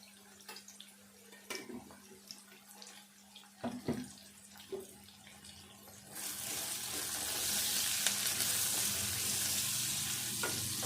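A curry of onion and turmeric fries in a pan: scattered clinks and stirring give way to a loud, steady sizzle that holds to the end.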